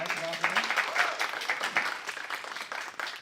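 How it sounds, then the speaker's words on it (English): Audience applause fills the room as a fairly quiet, steady wash of many hands clapping, with scattered sharper claps and some faint voices underneath. "If everyone could give a quick round of applause to Vasavi."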